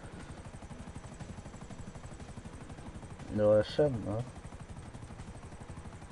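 Helicopter in a video game, a steady rotor-like drone with fine regular pulsing that runs throughout under a brief burst of talk in the middle.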